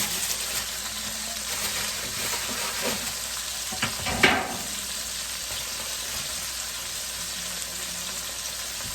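Sesame chicken pieces fry in hot oil with a steady, broadband sizzle throughout, a brief louder crackle and splash near the middle as food is stirred or shifted in the pan.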